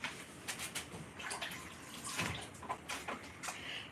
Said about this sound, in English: Let me wash my hands properly.